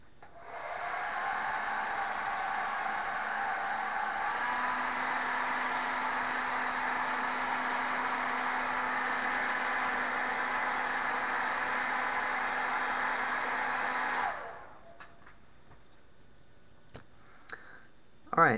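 A hair dryer blows steadily for about fourteen seconds to dry freshly painted 28mm miniatures, close and loud, with its pitch shifting slightly partway through. It then cuts off, leaving a few small clicks and taps.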